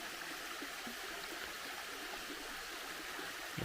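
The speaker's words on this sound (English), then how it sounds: "It's sort of like a big sliding rock waterfall, but that's it coming down through there." Steele Falls, a low-flow waterfall sliding over a broad flat rock face, gives a soft, steady rushing hiss heard from a distance, even and unbroken with no talking.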